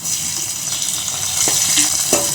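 Onion and tomato frying in a pan make a steady, fairly loud sizzle, with a couple of brief clinks from a utensil near the end and no speech.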